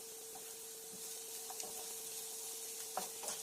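Onions for an okra dish frying in a pan, a faint, steady hiss with a few light scrapes and taps of stirring, a constant low hum running underneath.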